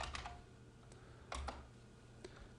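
A password typed on a computer keyboard, with a handful of quiet, scattered key clicks at an irregular pace, close but soft, and no talking.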